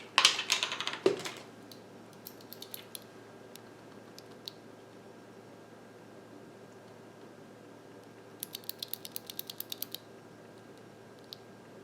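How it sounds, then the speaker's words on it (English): Blue switches from Keychron being pressed into a mechanical keyboard: a loud burst of handling noise at the start, then a quiet stretch, then a quick run of sharp, close clicks and snaps near the end. "it's time to put in our blue switches"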